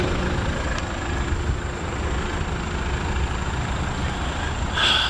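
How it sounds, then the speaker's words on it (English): Steady idle clatter of a 2020 Mazda CX-30 diesel engine heard from inside the car, a continuous low rumble with faint ticking running evenly throughout, no talk. "Now it's the only time you can hear the clatter."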